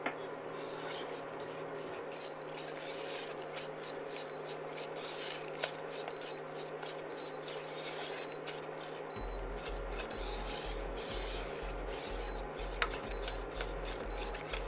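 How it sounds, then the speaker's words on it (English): Fruit cake batter whisked in a bowl on an induction plate, a continuous rhythmic rasping scrape close by, over a faint electronic whine, with a low pulsing hum joining partway through. "go with a whisk."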